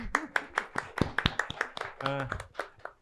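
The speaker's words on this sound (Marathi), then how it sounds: "तिच्यासाठी पण टाळ्या." Applause from a small audience after a dramatic reading performance: sparse, distinct hand claps in an uneven rhythm, fairly faint, with a short bit of talk partway through.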